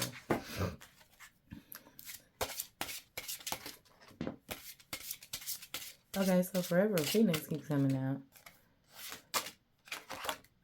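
Crisp bursts of tarot cards being shuffled and riffled, repeated in short flurries between stretches of a person talking.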